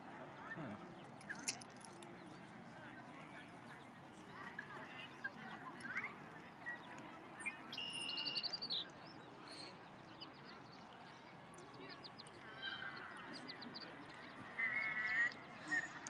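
Ducks quack and other birds call at a pond at the Brickworks, scattered honking bursts over a murky outdoor background, fairly faint and intermittent throughout.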